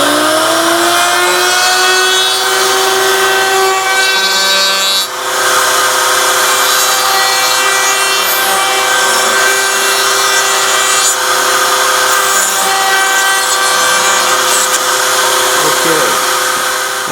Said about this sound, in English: put a round over on it on the router table